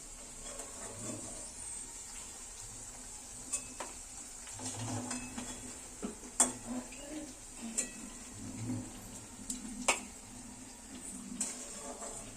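Carrot fries softly in a pan in a home kitchen, a low sizzle broken by scattered clinks and scrapes of a utensil stirring against the pan.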